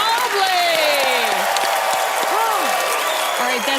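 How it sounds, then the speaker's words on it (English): Studio audience applause on a televised magic show, a steady wash of clapping and cheering with a gliding musical tone and brief voices cutting through, loud and continuous throughout. "give Allison a round of applause"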